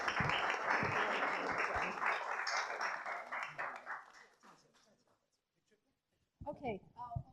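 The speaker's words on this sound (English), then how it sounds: "Let's give him a round of applause." Audience applause following a tech chat at the Silicon Dragon Beijing 2019 event: a dense wash of clapping that fades out over several seconds into near silence, then a voice speaks briefly at the end.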